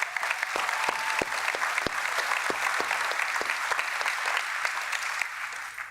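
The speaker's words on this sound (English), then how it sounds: "Can we get a big round of applause for the open source community?" Sustained applause from a sizable conference keynote audience at GitHub Universe, dense clapping with some sharper individual claps standing out, continuing evenly throughout.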